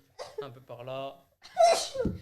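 A person speaks briefly, then a single sharp, loud sneeze bursts out nearby.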